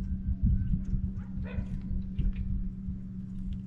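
Dogs left at home bark and whimper faintly in the distance, a few short yips over a steady low hum, heard from outside near a lake.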